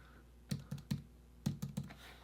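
A computer keyboard in a graphic design session: six crisp keystrokes in two quick groups of three, close and alone in a quiet room.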